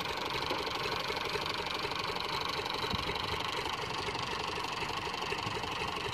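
Massey Ferguson 240 tractor engine idling close by, a dense, even, rough chugging that holds steady for the whole stretch with no voices.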